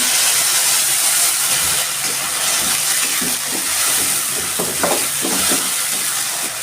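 Spice paste goes into a pan of fried onions with cumin, setting off a loud steady sizzle and steam hiss broken by repeated scraping stir strokes, with no voices.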